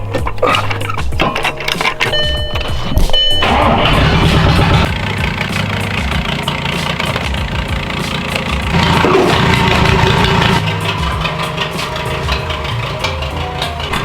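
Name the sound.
car engine running to fill air suspension bags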